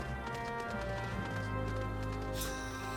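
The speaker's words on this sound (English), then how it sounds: "They got their horses dancing." Horse hooves clip-clop in a steady rhythm in the online video game Final Fantasy 14, set against a dense musical and ambient game backdrop, fairly close and continuous.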